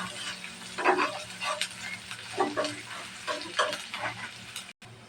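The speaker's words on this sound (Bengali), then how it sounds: "পেঁয়াজটা লালচা করে ভেজে নেব।" Chopped onions, green chillies and dried red chillies fry in soybean oil in a pan, with a soft steady sizzle under repeated stirring scrapes and clinks from a spoon, heard close.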